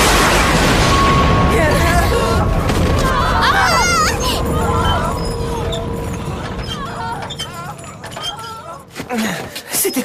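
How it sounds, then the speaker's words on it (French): A loud explosion in the opening episode of the Attack on Titan anime, a deep booming rumble that fills the first seconds and slowly fades, with scattered clatter, animal-like cries and voices sounding over it. "C'était quoi? Une explosion?"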